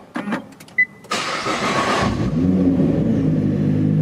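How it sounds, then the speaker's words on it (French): A Nissan GT-R Nismo with a 600-horsepower engine is started by push button: a few clicks and a beep, then the starter catches and the engine fires with a loud rev before settling into a deep, steady idle. "Et le moteur se met en marche comme par magie."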